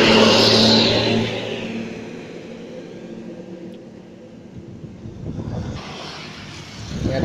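A GM Trans tourist bus passing on a road in Ciawi, Tasikmalaya: a loud, close engine rush that fades away, followed by another vehicle approaching with a rising roar at the end.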